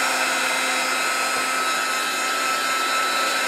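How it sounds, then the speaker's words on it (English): A heat gun runs continuously as it loosens a sticker label on a book, a loud, steady hissing blower whine with no pauses or voices. "So I use a heat gun to get the initial label off."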